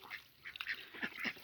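Several ducks quack in short, nasal bursts at a farmyard feeding spot, a few close calls overlapping in quick succession with no talk.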